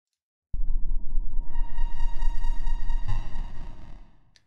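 A sudden buzzy, harsh 8-bit electronic tone starts abruptly, holds with gritty distortion, then fades into a lingering reverberant tail.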